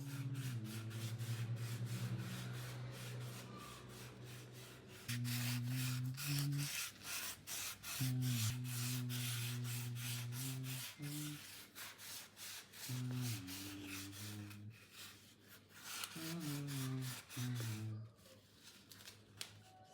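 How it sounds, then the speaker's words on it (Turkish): Steady, continuous rubbing and scraping of sandpaper across a hard surface coated with filler putty, close up, with broad hiss and occasional tonal hum from nearby machinery in the background. "Zımparayı bitirdim."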